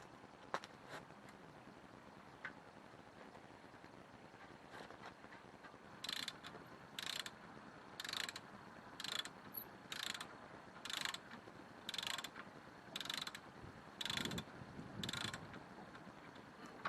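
A ratchet working on tight bracket bolts during front wheel bearing work on an Audi A3 (8PA): a run of about a dozen evenly spaced clicking bursts, close and clear, after a quieter stretch of faint handling noise.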